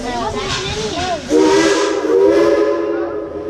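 A steam locomotive whistle on the Tweetsie Railroad, a loud sustained blast rising out of hissing steam and holding for a couple of seconds near at hand.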